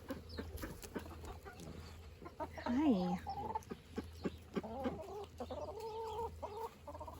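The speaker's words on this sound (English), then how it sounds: "This is a Welsomer from our first batch of chickens this year." A Welsummer hen, one of the year's first batch of chickens, clucks and croons close by in short, rising and falling calls spread across the clip, with a brief human greeting and soft background noise around them.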